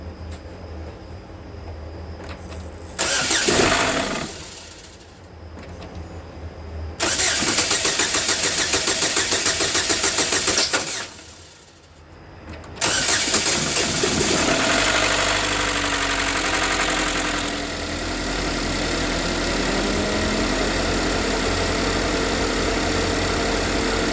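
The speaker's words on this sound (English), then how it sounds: "turn the key, and if it starts up and it runs fine" A rebuilt 2013 GMC Terrain engine cranks and catches several times with loud roaring revs and brief dips between attempts, then settles into a steady close idle.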